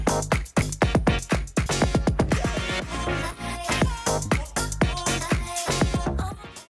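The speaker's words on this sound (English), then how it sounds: "it gives you an effect to play or fade out the drums in an interesting way." An electronic track plays as an AlphaTheta DDJ-GRV6 DJ controller's drum release effect fades the drums into echoing repeats, beats trailing off while the music continues, then cutting to silence at the end.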